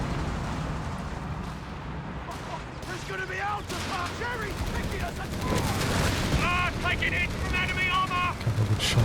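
Gunfire from a Company of Heroes 3 battle, with MG42 machine guns among the weapons: a dense, continuous clatter of shots and blasts at mid distance, layered under ongoing commentary and busy battlefield noise.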